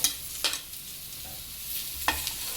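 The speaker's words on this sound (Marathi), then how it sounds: "राहिलेला टोमॅटो आहे तो पण भाजून घेऊया" Tomato being roasted with ginger and garlic in a pan: a soft bed of frying sizzle with a few sharp spoon scrapes and clicks at irregular moments, close and fairly quiet, no talking.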